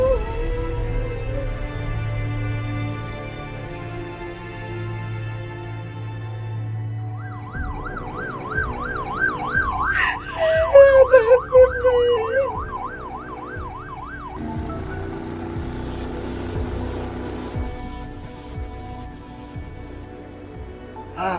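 Ambulance siren wailing and yelping in rising and falling sweeps, growing louder as it passes close, then fading away over a low background hum with no voices.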